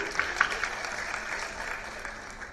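A small conference audience claps for an arriving speaker, a fairly dense patter of hands with a few sharper claps early on, steady and moderately loud throughout.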